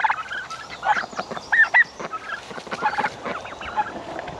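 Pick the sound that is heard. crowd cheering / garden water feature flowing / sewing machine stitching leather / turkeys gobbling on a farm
turkeys gobbling on a farm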